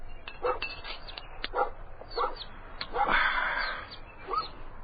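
A dog named Floyd barks repeatedly in a radio drama scene, sharp yips and woofs in irregular bursts over a faint ambient background, with no talking.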